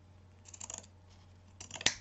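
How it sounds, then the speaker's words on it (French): Scissors snip through a piece of ribbon at a craft table, a few quick close blade closures near the start and one sharper, louder snip toward the end over a low steady hum. "je vais prendre ce ruban là. On va découper un morceau."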